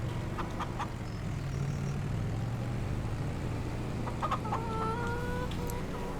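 Chickens clucking in Farming Simulator 25, several short clucks and squawks over a steady low background hum, with a busier burst of calls toward the end.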